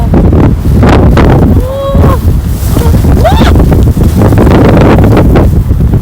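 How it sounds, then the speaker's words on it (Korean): Strong wind on a beach buffets the microphone with heavy, rumbling low-frequency gusts that nearly drown everything else, while a voice exclaims briefly under the roar. "근데 이렇게 바람이 불지 몰랐네."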